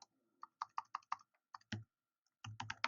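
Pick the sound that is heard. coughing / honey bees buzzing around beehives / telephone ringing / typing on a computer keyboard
typing on a computer keyboard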